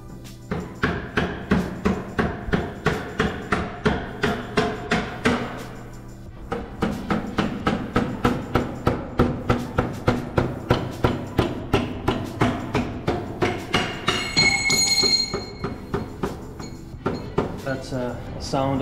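Repeated metallic hammer blows drive a pivot axle through a motorcycle swing arm while fitting racing rearsets on an Aprilia RS 660. The strikes are close and rhythmic, in quick runs with a brief pause and some ringing clinks near the end.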